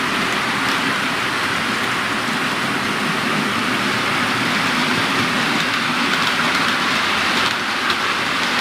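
A model Class 47 locomotive runs past on a model railway layout, giving a dense, steady rumble and wheel noise that stays loud and even from start to finish, with no voices.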